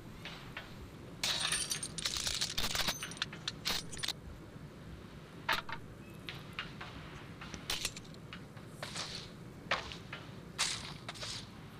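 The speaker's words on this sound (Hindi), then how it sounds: "शॉर्ट गन भी मिल गई, M249। चलो रिलोड करते हैं इसको" Metallic clicks and rattles of an M249 being reloaded in the video game BGMI come in short bursts and scattered single clacks over a low background rumble, fairly faint overall.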